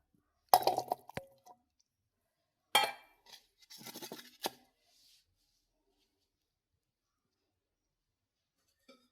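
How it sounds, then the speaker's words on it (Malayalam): Cooked, cooled jackfruit seeds are dropped into a mixer grinder jar, making a few short clinks and rattles in separate bursts, then falling quiet. "ചക്കക്കുരുവൊക്കെ തണുത്ത് ഇനി ഇത് മിക്സിയുടെ ജാറിലോട്ട് ഇട്ട് കൊടുക്കാം."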